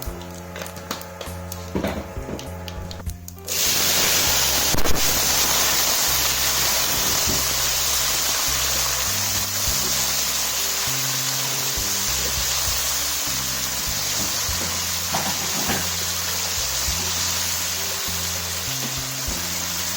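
Cumin and onion hitting hot cooking oil, a sudden loud burst of dense, broad sizzling that then holds as a steady close hiss, after a few seconds of quieter kitchen sounds.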